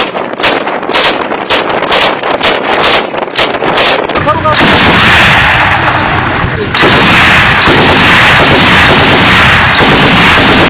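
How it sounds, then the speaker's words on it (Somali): Somali army heavy artillery and gunfire aimed at al-Shabaab positions in Middle Shabelle: a quick run of sharp, evenly spaced shots gives way to a dense, continuous roar of loud fire and booms. "ciidanka xoogga dalka Soomaaliyeed oo madaafiic waaweyn ku garaacaya goobaha ay ku dhumaalaysanayaan argagixisada al-shabaab iyadoona ciidamada halkaasina rasaas xoogan ay ku galeen"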